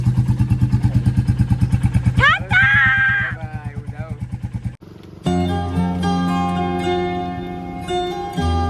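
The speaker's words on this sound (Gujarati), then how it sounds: "જઈ રહ્યા છે બુલેટ દેવા બુલેટની વિદાય ચાલુ છે અત્યારે" A Royal Enfield Bullet motorcycle thumps with a steady, rapid, loud idle beat before pulling away, then the engine note fades under other close sounds, including voices and tonal notes.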